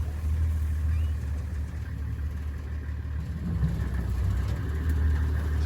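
A safari vehicle's engine drives steadily at low speed into the bush, a continuous close rumble with no revving and no voices.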